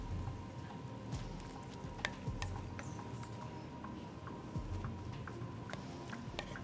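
A tomato and onion mixture for a cheesy beans and rice casserole bubbling and sizzling steadily in a pan, with soft pops and crackles throughout and no talking.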